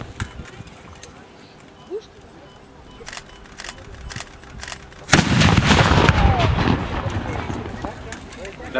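A cannon fires at a historical reenactment in Pont de Vaux, its sudden loud blast cutting through quiet outdoor ambience and rumbling on for several seconds as the crowd stirs.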